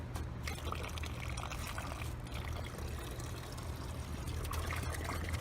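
Water pours steadily into a fabric bucket in a leakage test, a continuous close splashing trickle with no talk.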